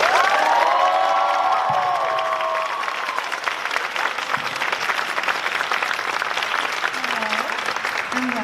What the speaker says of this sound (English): So please give a round of applause for Dr.